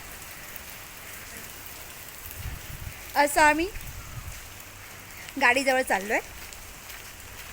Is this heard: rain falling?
yes